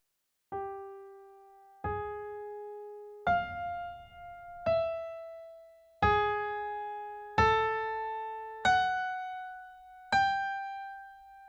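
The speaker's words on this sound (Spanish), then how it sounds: "el tema generador de la fuga, que se presenta al unísono entre los 4 instrumentos, en fortísimo y en valores largos" A string quartet sounds the fugue theme from Beethoven's Op. 130 in unison, eight long, loud sustained notes separated by brief gaps, with wide leaps between pitches.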